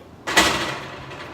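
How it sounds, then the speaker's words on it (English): An oven door swings shut after a spice cake goes in, making one close, solid thud that fades quickly into a soft room tail. "Put in the cake in."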